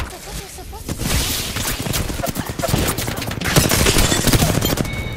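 Rapid, loud bursts of automatic gunfire crackle almost continuously through a video game firefight, dense overlapping shots with some chatter in the background.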